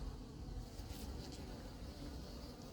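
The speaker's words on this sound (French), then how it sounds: "Et maintenant il va voler." A hornet flies near a beehive at an apiary, its wings making a steady close-up buzzing drone, with no talk.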